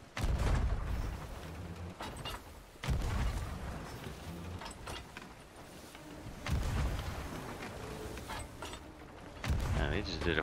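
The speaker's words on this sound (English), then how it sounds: "Ready to start firing off the left cannon." Ship cannons fire in the Sea of Thieves pirate video game, with several heavy booming blasts spaced a few seconds apart, loud and close, while players talk over and between the shots.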